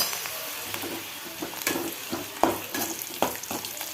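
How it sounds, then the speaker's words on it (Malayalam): Papad frying in hot oil in a pan, a steady close sizzle broken by occasional crackles and light stirring clinks. "എണ്ണ ചൂടായി അതിന് പപ്പടം വറുത്ത് പോരാം"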